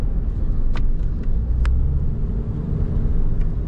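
Trucks and cars pass on a road in Pampanga, a loud continuous rumble of traffic close by with a few brief sharp clanks, no talking.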